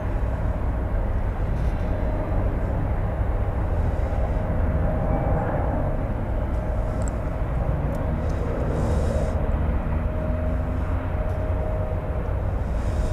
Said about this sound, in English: Flight 3885. Airbus A321.